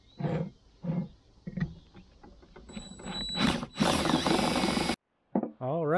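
Power drill with a larger bit boring out holes in the steel of an OKJ Longhorn reverse-flow smoker, with cutting oil applied; several loud grinding bursts build toward a sustained whine before stopping, close and alone.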